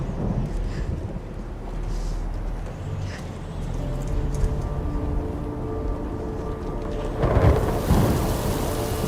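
Heavy thunderstorm from the film Hesher: steady rain pouring on surfaces with low rolling thunder rumbling throughout and a louder crack of thunder near the end.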